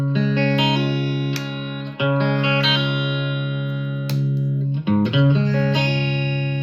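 A Reverend Eastsider T-style electric guitar played with its push-pull tone control pulled out, ringing sustained chords with a few strummed changes, clean and close with light effects and no talking.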